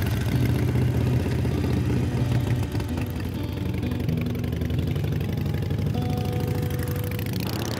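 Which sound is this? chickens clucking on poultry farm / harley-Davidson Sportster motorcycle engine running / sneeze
harley-Davidson Sportster motorcycle engine running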